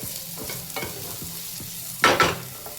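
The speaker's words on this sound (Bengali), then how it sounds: "এবার পেঁয়াজটা একটু ভেজে নেবো" Onions fry in a pan with intermittent scraping stirs over a steady low sizzle, then a louder, brighter burst of sizzling and scraping near the end.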